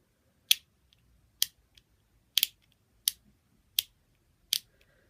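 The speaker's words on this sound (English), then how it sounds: "It's like a crunchy noise that is absolutely awful." Clicking of a switch on a fake Fidget Cube with a crunchy texture: six sharp, separate clicks spaced roughly evenly, close and fairly loud in an otherwise quiet room.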